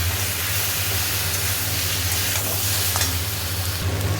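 Ginger garlic paste fries in a pan while being stirred, giving a loud, steady sizzling hiss over a low humming drone, with a few scraping stir sounds near the end, close up and without talk.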